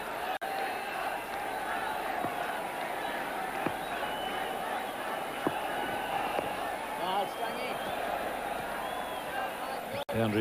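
Cricket crowd at a 1996 World Cup match, India against Zimbabwe, cheering a lofted boundary: a broad, sustained roar of a large stadium crowd with claps and shouts, steady across the whole stretch.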